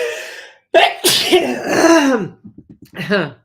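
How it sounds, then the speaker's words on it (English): A single sharp sneeze bursts out after a sharp inhale, followed by a few short breaths and a brief vocal sound; close and loud. "I'm going to sneeze."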